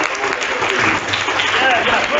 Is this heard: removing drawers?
no